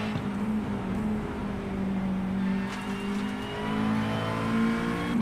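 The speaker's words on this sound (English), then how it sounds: "Yeah, he's dabbing the throttle." Race car engine in the iRacing sim at Brands Hatch, a GT3 car droning steadily with rising and falling pitch as the throttle is dabbed, heard continuously and fairly loud.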